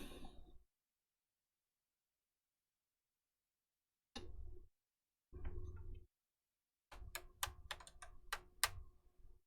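Computer keyboard typing while entering a football depth chart in a college sim game: a quick opening burst, two short bursts after a pause, then a denser run of sharp key clicks, all close and fairly quiet, with silence in between.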